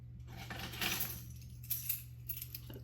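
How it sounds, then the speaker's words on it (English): Keys jangling indoors, a light metallic clinking that swells and fades over a few seconds against a steady low hum, faint and with no talk. "That's my keys."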